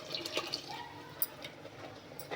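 Water left from rinsing a mixer jar is poured into a pot of Kongu-style sprouts gravy in a home kitchen, giving a soft, quiet trickle and some faint drips over low room noise.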